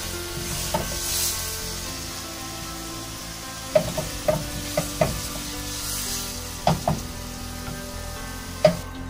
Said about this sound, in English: now I'm going to transfer the tofu into a plate